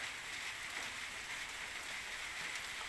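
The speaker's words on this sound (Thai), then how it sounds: "บรรยากาศฝนตกลิ้นค่ะ" Rain falling on trees and surfaces, a soft, steady hiss of drops that stays even and fairly quiet from start to finish, with no talking.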